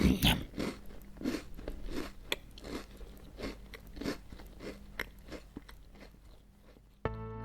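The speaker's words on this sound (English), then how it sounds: "That actually sounded like someone eating cookies." Loud crunching and chewing of cookies, a steady series of sharp bites and crackly crunches close to the mic, repeating about every half second, ending with a brief tonal burst.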